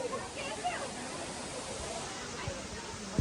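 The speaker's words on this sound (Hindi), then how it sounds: "ये है झरना का असली व्यू।" Siyadevi Waterfall in Balod, Chhattisgarh, pours as a steady, dense wash of rushing water that fills the clip at an even loudness, with faint voices murmuring underneath.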